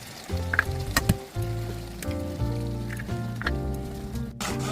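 Tomatoes and two eggs frying in a covered pan with garlic, a continuous moderate sizzle broken by sharp spattering pops and crackles, close by and without speech.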